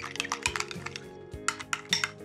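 A spoon stirs apple butter and sour cream together in a bowl, giving quick clinks and scraping taps against the dish over a soft, wet mixing sound, close and clear with no talking.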